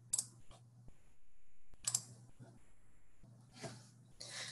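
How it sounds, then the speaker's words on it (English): Mouse clicks while saving a form on a computer: a few faint, crisp clicks spaced apart over quiet room tone. "click that Save button"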